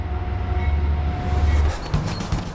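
A train rumbles along the rails with a low steady roar, rattling clatter building toward the end; no talking.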